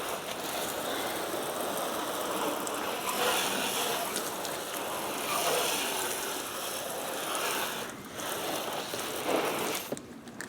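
A hose rinses the engine bay of a 20-year-old car, giving a steady hissing spray of water that varies a little in strength as it moves, with brief dips and a sputter near the end.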